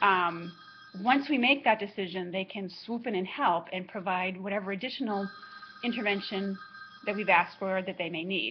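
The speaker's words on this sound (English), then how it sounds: "Pardon my phone that's ringing in the background." A telephone rings faintly in the background, a repeated electronic tone sounding beneath a woman's steady, close speech throughout.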